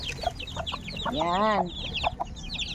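A mother hen gives one drawn-out, clear clucking call among her chicks, whose rapid high peeping chirps run throughout, close by; a voice briefly speaks.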